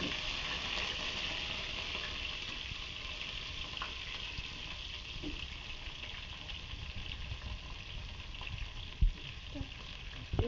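Onions frying in hot oil for chicken tehari, giving a faint, even hiss of sizzling that runs throughout with a couple of brief knocks near the end, no voices.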